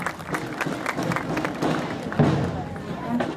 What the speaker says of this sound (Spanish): De esta forma concluyen así las chiroleras la presentación, con un fuerte aplauso sin duda alguna.